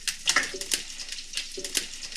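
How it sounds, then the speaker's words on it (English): Steady crackling sizzle of food frying in a hot pan, with a few louder bursts and faint stirring scrapes, close by. "It sounds sizzling, that means it's heated."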